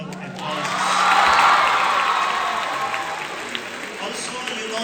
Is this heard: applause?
yes